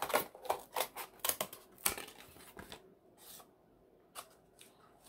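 Scissors snip through cardboard while a triangle shape is cut out for a pencil holder craft, a quick run of crisp close cuts followed by a pause and a few sparser snips.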